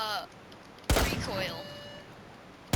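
Pistol-like gun in Rainbow Six Siege firing a single loud shot with ringing tail, followed by a second sharp report at the very end.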